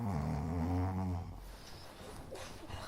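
A person snoring like a revving motorbike gives low, rumbling, harmonic-rich snores that are loud for about a second, then fall to a quieter rough rattle.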